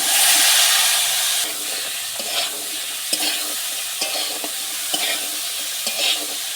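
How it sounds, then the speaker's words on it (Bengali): Boiled potatoes and chickpeas fry in hot oil, a loud sizzle that eases slightly after the first moment, with repeated rhythmic scraping strokes of a spatula stirring the pan and no talking. "এইভাবে নেড়ে চেড়ে আমি খুব সুন্দর মতো করে ভাজাটা তৈরি করে নেবো"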